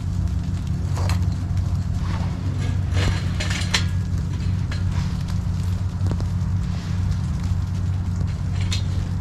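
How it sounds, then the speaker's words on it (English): An outdoor campfire burns steadily after wood is tossed in, with continuous crackling and scattered sharp pops over a low, constant roar, close by and without talk. "So, hey, but I have a nice warm fire here."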